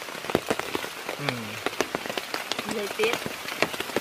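Rain falls steadily on a tent at a temple in the Prey Lang forest, making dense, close, irregular patters and drips, while a person talks over it.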